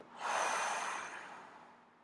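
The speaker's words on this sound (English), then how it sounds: "Exhaling out the mouth." A single long breath pushed out through the mouth during a guided meditation, rising quickly and then fading slowly, close and soft with no voices over it.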